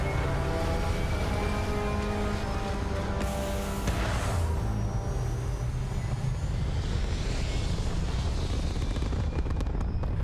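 A spaceship lifts off in Starfield, heard as a loud, continuous engine roar and rumble with shifting tones and whooshes throughout.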